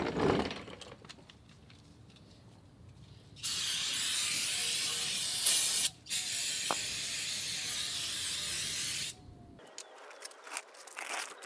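An aerosol spray hisses onto a car's transmission pan during a pan and filter replacement, a loud continuous hiss lasting several seconds with a short break, preceded and followed by quieter clicks and handling noises.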